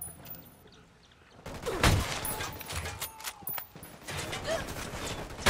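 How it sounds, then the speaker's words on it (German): Gunfire in the tactical shooter Ghost Recon Wildlands, with several loud broadband shots and bursts over about four seconds against a faint ambient background after a quiet start. "Der Schuss aus dem Park."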